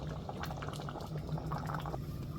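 Oha soup bubbles steadily in a pot, a close, continuous simmering gurgle with no other sounds.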